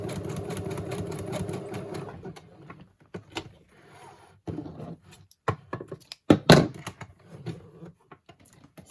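A sewing machine stitches a traveler's notebook in short bursts of close mechanical whirring, with pauses, clicks and thunks between runs and one louder clatter near the end.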